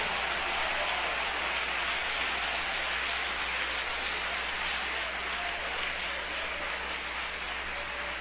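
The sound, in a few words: congregation applauding in church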